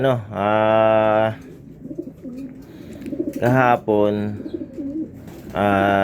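Loud, close racing pigeon coos in long harmonic swells, three or four of them, with a person talking briefly between the calls.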